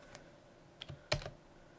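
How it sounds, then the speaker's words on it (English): A few soft, quiet keystrokes on a computer keyboard, spaced irregularly over a faint background hum, with one slightly louder press near the middle. "type the asterisk symbol."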